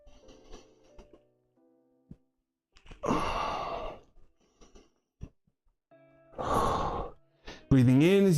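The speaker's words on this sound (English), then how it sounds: "Breathing in as you go down and out as you go up." Heavy breathing during a dumbbell workout, with two long loud forceful exhales, close, separated by quieter breaths and short spoken bits.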